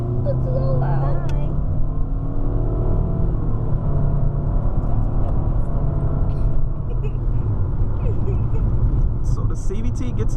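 Engine of a 2017 Nissan Altima SV with CVT pulling hard under acceleration, a steady loud low drone and road rumble from inside the cabin with no break in level.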